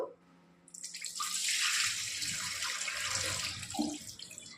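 Water splashes into a vessel while soaked rice and lentils are washed for idli and dosa batter, a short quiet start, then a steady close pouring rush with sloshing and a brief gurgle near the end.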